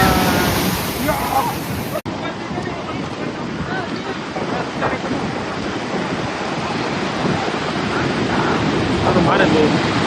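Rough sea waves at Somnath crash and surge in a steady, loud roar, with wind buffeting the microphone. Voices are faintly heard under the surf.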